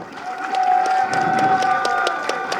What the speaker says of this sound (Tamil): இந்த அரங்கமே அதிர மாதிரி நம்ம கிருஷ்ணா சாருக்கு மிகப்பெரிய ஒரு கரகோஷம் கொடுங்க நல்லா